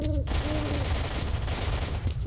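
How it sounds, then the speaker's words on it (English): Gunfire from the shooter game S.T.A.L.K.E.R.: Shadow of Chernobyl crackles as a dense, continuous burst of shots, fairly loud and close, with a brief tone at the start before the firing fills the rest. "there's definitely still some gunfire going on over here"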